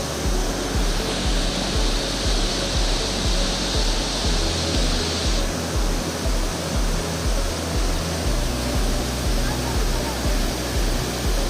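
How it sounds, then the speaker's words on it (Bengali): A waterfall at Sitakund in Odisha pours with a steady, dense rushing roar that stays loud and unbroken throughout. "ঝর্ণাটা একটু দেখো তোমরা"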